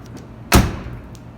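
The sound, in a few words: 1985 Buick LeSabre car door closing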